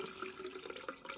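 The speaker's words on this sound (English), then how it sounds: "Just going to dump it into this big vessel." Fermented water kefir poured through a filter into a big vessel, a continuous splashing, gurgling stream of liquid, close and steady with small bubbling fluctuations and no talking.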